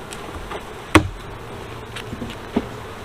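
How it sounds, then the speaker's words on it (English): Honey bees in an opened hive make a steady, low, continuous hum, broken by a couple of sharp clicks. "There are a lot of bees in here"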